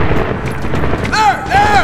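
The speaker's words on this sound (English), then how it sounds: "You hear that? It is an AK fire." Rifle fire from an AK in the video game Medal of Honor crackles in rapid bursts amid loud combat noise, with whistling tones sweeping through and talking underneath.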